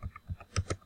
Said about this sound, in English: you're just going to type these words in here, Bongo,